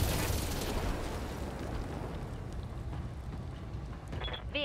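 Mech weapons firing and hitting in the BattleTech video game: heavy rumbling blasts and booming impacts in a dense, loud wash that fades slightly before a last burst of sharp metallic hits.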